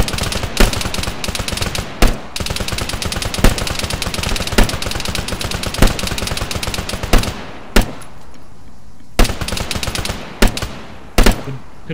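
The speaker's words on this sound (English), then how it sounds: "Could people stop shooting the targets I'm trying to shoot?" Rapid gunfire rattles almost nonstop in a military shooting game as weapons fire at targets, with sharp louder single shots cutting through the bursts and a few short pauses near the end.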